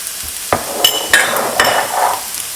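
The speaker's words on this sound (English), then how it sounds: "Mix them all in" Herbs, a quarter teaspoon each of rosemary and thyme, being stirred into a pan over low heat for baked rigatoni, with a few distinct scraping clacks of a utensil against the pan over a soft, faint sizzle.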